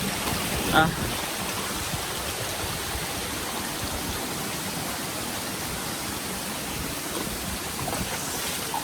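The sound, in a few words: waterfall in Hawaii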